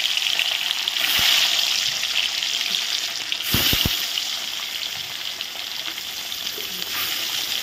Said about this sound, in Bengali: তো এখন আমি মাছের পেটিগুলো দিয়ে দিচ্ছি।